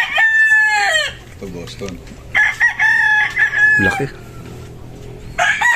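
A gamecock rooster at a breeding area crows loudly and close, with a long strained crow followed by clucks and a second crow, while someone speaks briefly between the calls.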